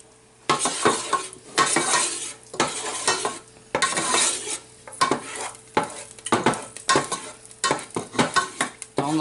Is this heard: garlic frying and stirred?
yes